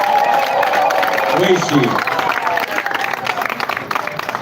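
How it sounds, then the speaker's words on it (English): A crowd at a live political rally claps and cheers for Comrade Kaija Doreen. The applause runs thick and steady, then thins into scattered claps while someone speaks over it. "I want you to stand up and clap for Comrade Kaija Doreen"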